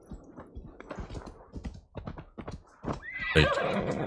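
A horse in Assassin's Creed Valhalla clops along with rapid hoofbeats, then lets out a loud, quavering neigh near the end, close and clear.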